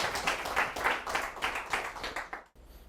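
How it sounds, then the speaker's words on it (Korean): Audience applause in a science lecture hall, a lively patter of many hands clapping steadily for a few seconds before stopping abruptly, close and without talk. "38억 년 동안 살아남아준 자기 자신의 유전자와 게놈에 대해서 박수 한번 부탁드리겠습니다."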